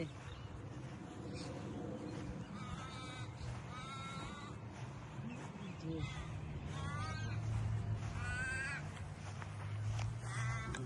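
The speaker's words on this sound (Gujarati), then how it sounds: "સવારે જાણ ખાવા કેવા સરસ પોપટ આવ્યા છે" Parrots call in the morning outdoors in Australia, giving harsh squawks and warbling cries at varying distances, while people talk throughout.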